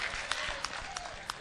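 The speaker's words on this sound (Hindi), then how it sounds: "जोरदार तालियों के साथ जो है हामिद भुसावली का यहां इस्तकबाल होना चाहिए।" Audience applause rings out at an Urdu mushaira to welcome the poet Hamid Bhusawali: a steady wash of clapping with a few sharper claps standing out, mixed with faint crowd murmur.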